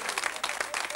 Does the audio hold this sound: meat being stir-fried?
no